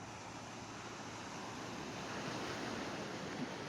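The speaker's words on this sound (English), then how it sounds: "the wind keeps blowing my Steadicam around" Steady wind buffets the microphone on a beach, mixing with the broad roar of surf into a constant, loud rush that swells slightly toward the end, with no voices.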